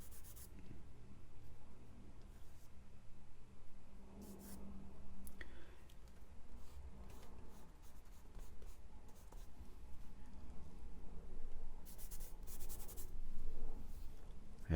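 Charcoal scratches and rubs across paper in continuous soft strokes, a faint, close scraping texture with brief quicker bursts of shading.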